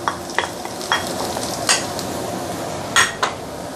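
Onion and garlic sauté over medium-high heat in a pan, a steady sizzle broken by several sharp metal stirring clinks close up.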